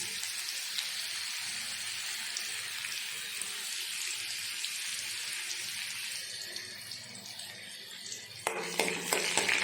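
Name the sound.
chopped ginger frying in hot oil for tarka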